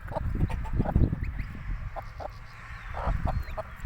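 Mother hens cluck softly while leading goose and duck chicks around outdoors, a few close, short clucks and faint peeps scattered over a quiet background.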